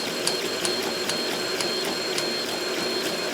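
A 3D printer pushed to maximum speed and acceleration during failure testing whirs steadily, with a constant mechanical hum and regular sharp clicks or stepper chirps repeating roughly every half second throughout.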